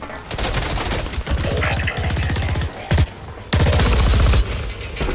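Rapid automatic SMG fire from the video game Blacklight Retribution, loud repeated bursts of gunshots separated by brief pauses, close and dominant throughout.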